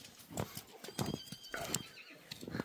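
A dark bay colt with a long white blaze, a local horse being sold by a farmer, gives close, clear neighs and whinnies in several bursts, with hoof sounds alongside.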